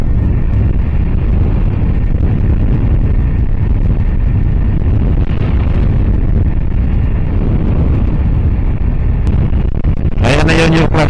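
Heavy wind buffets the microphone as a motorcycle rides along the access road from Clark, Pampanga toward New Clark City, a constant loud rumbling roar throughout, with a brief voice near the end.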